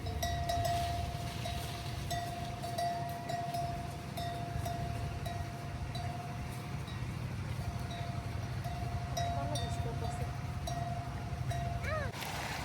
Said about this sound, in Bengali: মহিষের গলায় ঘন্টা।